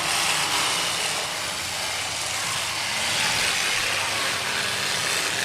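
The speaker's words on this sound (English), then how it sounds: "You hear that, motors?" Race car engines running at a drag race meet, a loud, continuous broadband roar with a steady drone and no clear breaks.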